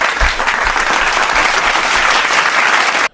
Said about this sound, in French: On vous applaudit pour ça.